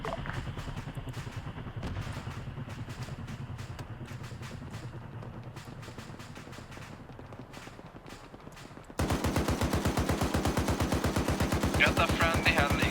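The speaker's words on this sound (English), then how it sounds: "I think it's our 50 cal shooting at it" An Arma 3 .50 cal machine gun hammers out long sustained bursts of rapid, evenly spaced shots, steady for several seconds and then louder and nearer, with voices talking over the firing.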